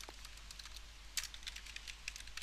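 Rapid, uneven clicking of keys on a computer keyboard, a steady run of light close taps with a slightly louder burst near the middle, no voices.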